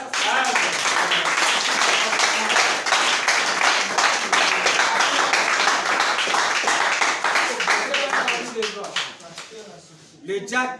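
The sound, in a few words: congregation applauding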